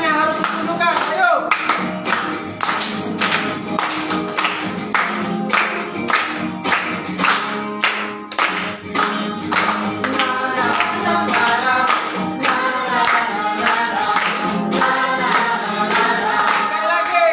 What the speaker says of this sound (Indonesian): Tepuk tangannya harus ditunjukkan.